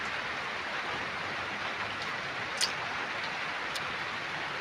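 Heavy rain pours steadily over a rice field, a dense, even hiss with no break and a few faint ticks of drops above it, close and fairly loud.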